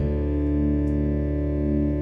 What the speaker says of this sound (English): We're starting to get these kind of oscillations or waves as I turn the tuning peg down.